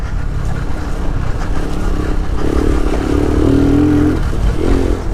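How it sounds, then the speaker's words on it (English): A Lifan KP motorcycle engine, still warming up, rides and revs loudly and close by, with a steady drone and a rising rev toward the middle. "Bike's still warming up."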